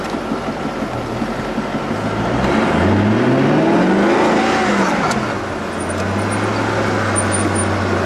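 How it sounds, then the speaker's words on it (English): A white Koenigsegg CCX sports car with a manual gearbox revs its engine in Monte Carlo, the tone swelling, peaking and falling back, then settling into a steady hum, loud and close with no voices. "It's a Koenigsegg CCX manual gearbox in Monte Carlo."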